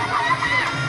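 Fans at a Thai Fight League boxing match shout and cheer in a short, dense burst, a lively crowd roar filling the space at moderate loudness.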